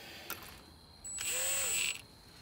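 Impact wrench working on wheel studs of a two-door Bronco, a short high whirring burst of about a second with a brief click before it, close and fairly loud.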